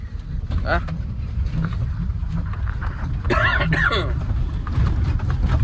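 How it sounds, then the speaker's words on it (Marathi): A dump truck rumbles loudly along a rough road with low, jolting thumps, while a person talks briefly over the engine noise. "बघा ही बघा रस्ता आहे, धपाक धपाक करते गाडी."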